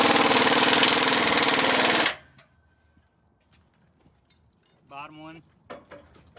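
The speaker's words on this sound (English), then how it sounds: "Impact on the outside, wrench on the inside." Impact wrench hammering on a vehicle suspension nut, a loud close rattling burst for about two seconds that stops abruptly, followed by quiet clicks and a short spoken phrase.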